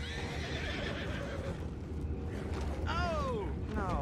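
Horses whinny in a rising-then-falling neigh in Red Dead Redemption 2, over a busy background of hoofbeats and low rumbling, with a second whinny near the end.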